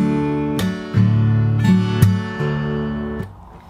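Fingerstyle acoustic guitar playing the chorus, with ringing strummed chords punctuated by several sharp percussive slaps, played alone and close.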